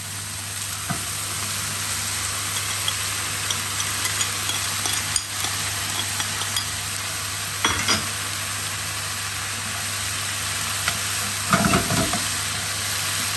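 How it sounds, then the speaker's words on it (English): Lentils and leeks sizzle in a frying pan under an even hiss, with a few louder scrapes and stirs near the middle and end; no one speaks. "I'm going to just toss them around a little bit, and now I'm going to add my lentils"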